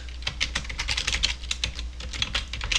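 Rapid, uneven keystrokes on a computer keyboard while coding Java in NetBeans, close and clear with short pauses between bursts of clicks.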